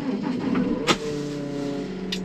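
A farm telescopic handler drives along a road, its engine a steady mid-pitched hum with a tonal whine, broken by a brief clunk partway through.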